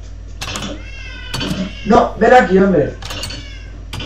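Cats meow in the video game Minecraft, several short mews scattered over a few seconds while someone talks over them.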